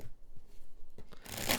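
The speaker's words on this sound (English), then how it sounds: "I just shuffled this deck and made sure I have all the cards still." A deck of cards being shuffled, a quick riffle building to a crisp, dense flutter at the end, close and fairly quiet.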